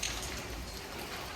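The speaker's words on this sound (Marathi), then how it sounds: "पाऊस चालला आहे" Steady monsoon rain falling outdoors near a garden, a continuous soft hiss of drops with no gaps and no voices.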